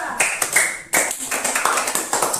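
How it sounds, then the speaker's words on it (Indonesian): Classroom applause for a student group, a short burst of scattered hand clapping with voices talking over it. "Ya, tepuk tangan untuk kelompok 2."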